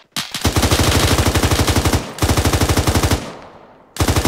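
Sustained machine gun suppressive fire in the Arma 3 video game, loud rapid bursts of evenly spaced shots broken by brief pauses, close and dominant.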